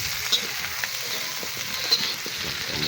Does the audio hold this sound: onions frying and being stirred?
yes